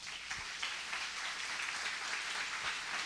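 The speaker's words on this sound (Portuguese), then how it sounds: "Aplauda bem forte ao Senhor." Church congregation applauding during a worship service, a dense steady wash of clapping holding at an even level for the whole stretch with no voices above it.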